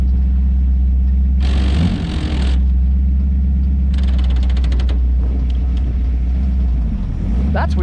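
Toyota FJ40 engine running with mechanical gear clunks and grinding as a downshift fails, a steady low drone with bursts of rattling and ratcheting noise, close and loud.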